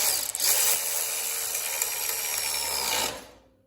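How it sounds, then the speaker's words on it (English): A power tool whirs steadily as it tightens the lower trunnion bolt on an MG TD front suspension during restoration, a loud, close, continuous buzz that runs for about three seconds then winds down. "Now we'll tighten the lower trunnion bolt."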